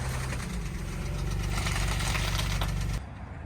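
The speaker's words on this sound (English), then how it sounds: "It's got a rod knock." A car engine with a rod knock idles steadily and loud up close, started off a big jump box, its rapid low rhythmic knocking continuous before cutting out abruptly near the end.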